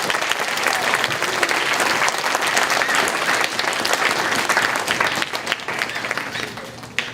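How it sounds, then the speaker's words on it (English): Audience at a lower school band holiday concert breaks into dense, continuous applause, many hands clapping loudly and steadily throughout before thinning slightly at the end. "Can we give them one big round of applause"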